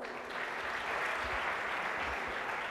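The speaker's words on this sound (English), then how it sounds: "One more round of applause." Applause rises from a community audience at an African National Congress dialogue in Gauteng, a steady wash of clapping that swells slightly after a quieter opening and carries on evenly.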